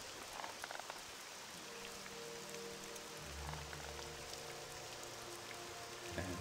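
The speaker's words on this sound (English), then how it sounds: "It's raining again" Steady rain pours down in the video game Morrowind, a dense, even hiss that runs throughout, with low hums of game music rising underneath partway through.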